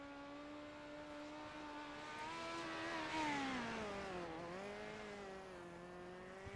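Midget race cars in an esports racing series at Lanier head onto the track, one engine droning steadily, its pitch swelling and dipping as it revs at moderate distance.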